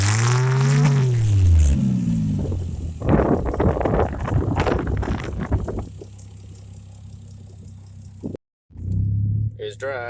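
A Lexus GS300 with a 2JZ engine and a big turbo revs and rumbles as it pulls away, the engine note rising and falling up close while people talk over it.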